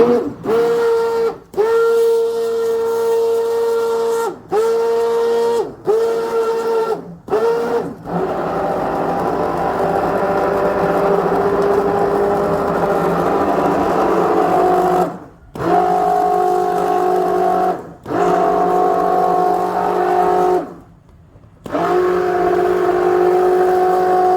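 A kitchen machine churns yogurt into butter, running with a steady motorized hum and whir that cuts out several times in short breaks before restarting, loud and close with no talking.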